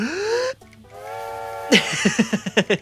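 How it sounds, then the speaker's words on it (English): A steam locomotive whistle in a cozy train driving game rises into a tonal blast and holds for a moment. A rhythmic run of puffing chuffs follows as the engine pulls away. "I'm going to blow the whistle"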